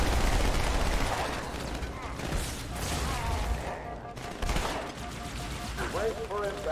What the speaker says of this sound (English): Whoa, nice recoil on these guns too.